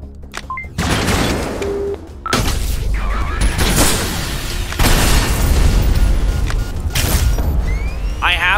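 Bombs and blasts go off in the top-down shooter Synthetik during a co-op run, a series of loud, dense booms and bursts that follow one another across the clip, with brief gaps and a sharp hit near the end.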